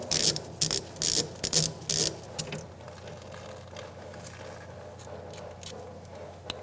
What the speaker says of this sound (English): disconnect our hose from our caliper using an 11mm socket